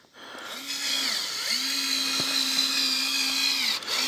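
A power drill whirs steadily at high pitch, drilling a hole in a birch tree to collect sap, running in long bursts with a brief pause, close and loud.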